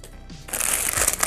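Cardboard packaging from a Spirit Halloween animatronic rustles and scrapes briefly during unboxing, close and fairly loud, with no talk.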